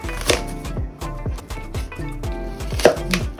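A knife chops an apple into quarters on a cutting board while juice ingredients are prepared, making a quick series of about nine crisp, close thuds and knocks in an uneven rhythm.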